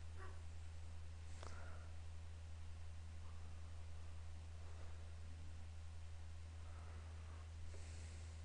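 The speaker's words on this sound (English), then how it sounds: "My dog barking in the background." A dog gives a few faint, distant barks and yips in a quiet room, heard over a steady low electrical hum and soft background hiss.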